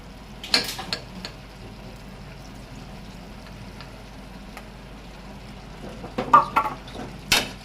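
Chicken coated in ginger garlic paste is stirred in a pan for a kulambu, with a few close scraping clatters of the utensil at the start and end and a faint quiet stretch between.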